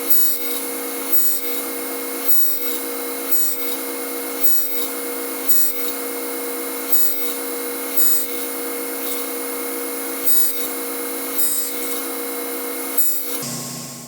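A power saw with a box joint jig runs with a constant high whine while it makes repeated quarter-inch cuts in wood. Regular faint knocks mark each pass, and the motor drops away near the end.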